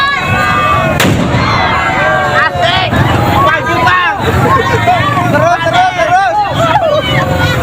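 Sharp firecracker bangs and pops burst out over a loud, shouting crowd at an Independence Day carnival in Cilegon, Banten, with the noisy commotion continuing throughout.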